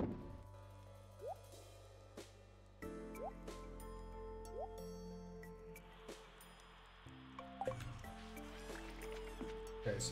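Water effects in the video game Stardew Valley: gentle drips and liquid plops fall over looping game music, fairly soft and steady throughout.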